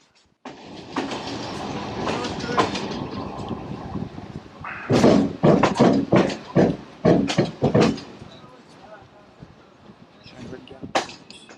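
A train rolls slowly into Sofia central station on a dead-end track, wheels clattering in rhythmic bursts of clicks and knocks nearby, with indistinct voices mixed in among the rail noise.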